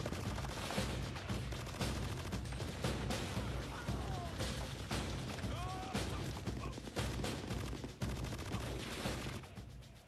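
Heavy gunfire from Pakistani soldiers in a mountain battle, a dense sustained barrage of shots and bursts rolling continuously at high loudness with no pauses, with no talking over it.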